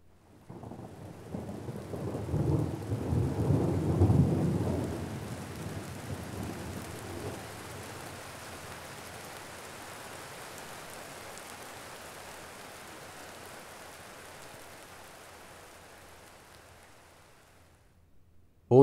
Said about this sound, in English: The large windows rattled whenever the loud cracks of thunder filled the air.